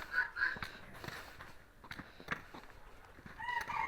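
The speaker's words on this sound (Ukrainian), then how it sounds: "Юра, біжи курку лови." Chickens cluck and call on a farm near a barn where pigs are kept, several short bursts at moderate distance with quieter gaps between them.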